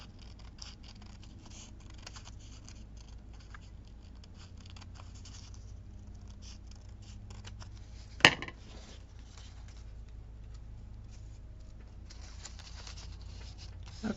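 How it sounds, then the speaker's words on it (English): A single crisp scissors snip cuts the end off an item in a quiet room, one short sharp click standing alone against faint background noise. "we're going to just snip the end of this off."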